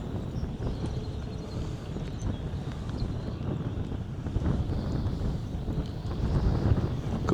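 Wind buffeting a microphone out on the water during a bass fishing trip, a continuous low rumbling roar that holds steady and grows slightly stronger toward the end, with no one speaking.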